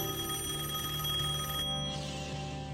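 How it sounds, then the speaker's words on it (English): A telephone rings in a residence, a steady tonal ring that continues throughout at moderate level, with no talk. "the phone is ringing off the hook"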